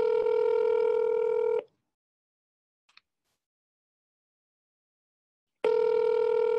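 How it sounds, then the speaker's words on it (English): Telephone tones on an outgoing call: a steady electronic tone, then about four seconds of near silence with a tiny click, then the tone returns, with no voices. "I'm going to call one more time."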